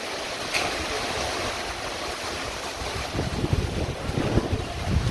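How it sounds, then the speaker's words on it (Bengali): Strong gusts of wind from Cyclone Remal roar and buffet the microphone near a goods warehouse, a continuous heavy rush that grows rougher and more turbulent toward the end, with no voices. "কেমন হাওয়াটা হচ্ছে শুধু সেটা দেখো।"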